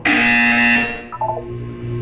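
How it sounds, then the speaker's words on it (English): A loud, harsh electronic buzzer from the video game Portal 2 blares steadily for nearly a second, then cuts off into a lower fading electronic tone, with no voices. "You will hear a buzzer."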